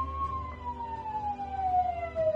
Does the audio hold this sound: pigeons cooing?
no